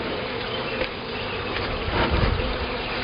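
Honeybees from a March swarm buzz in a continuous close drone around their hive during an inspection, with a few soft knocks of equipment being handled.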